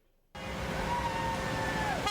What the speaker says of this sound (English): cast tractors rumbled and honked down the road